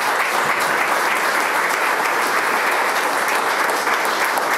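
Sustained, dense applause from an audience at an awards ceremony, steady and loud throughout without pauses or talk.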